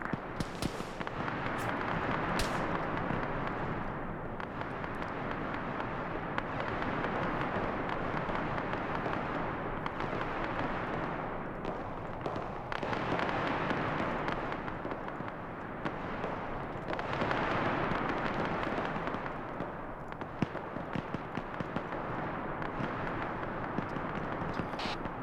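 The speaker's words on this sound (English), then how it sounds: "I think I hear mortars coming." Mortar fire in a military video game: a steady rumbling din of distant explosions and booms carries on for the whole stretch, fairly loud and unbroken, with no clear single blasts standing out.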